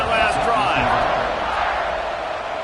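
Stadium crowd in a football video game roaring after a scoring drive, a broad steady cheer with scattered whoops that fades slightly toward the end, with faint talk mixed in.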